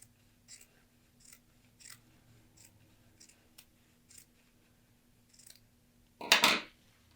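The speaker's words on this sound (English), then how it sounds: "So what we're going to do is just grade the top seam allowance. We're going to cut that in half." Scissors trim the top seam allowance on a sleeve cuff in a loose run of soft, quiet snips with short gaps between, then one louder, longer cut at the end.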